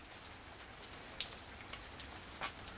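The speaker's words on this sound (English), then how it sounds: "It keeps raining and it just gets worse." Rain falling outside a home, a soft continuous patter with a few brighter drops ticking on a surface, faint and steady with no one talking.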